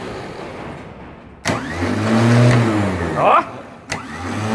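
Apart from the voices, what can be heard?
starter motor of a Toyota SW4 being tested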